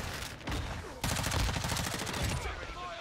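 Rapid automatic gunfire in the online shooter Modern Warfare 2 (2022) during a Domination match: a dense burst of quick shots, close and loud, with a few scattered shots before and after.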